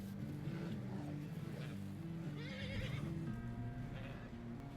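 A horse in Red Dead Redemption 2 whinnies over a steady background of game music and ambience, the neigh rising briefly in the middle of a continuous, moderately loud soundscape.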